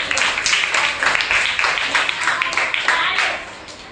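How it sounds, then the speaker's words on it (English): A Grade 3 reading comprehension class gives a group a round of applause. Many small hands clap in a brisk, even burst that holds steady and then tapers off. "Round of applause for that group."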